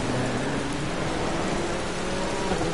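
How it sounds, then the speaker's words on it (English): Heavy rain in the racing game Project Cars, a steady dense hiss of downpour filling the whole stretch at even loudness, with no talking over it. "The rain's really coming down."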